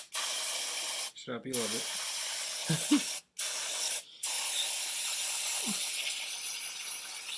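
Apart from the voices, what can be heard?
spraying brake cleaner onto a lawn mower engine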